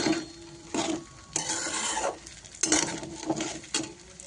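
Sago pearls being sautéed in ghee in a kadhai, heard as several separate bursts of scraping and stirring strokes against the pan with quiet gaps between them and a light sizzle, close by and with no voices.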